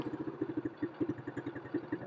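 A 125cc children's ATV Classic 8+ Plus quad bike engine runs at a low idle after starting, a quiet rapid chugging pulse with an even, slightly uneven beat, heard alone.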